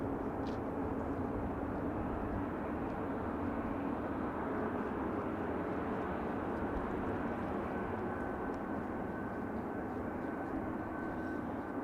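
An ITA Airways Airbus A320-200 comes in to land, its engines a steady, broad roar that holds at an even level for the whole stretch with no voices over it.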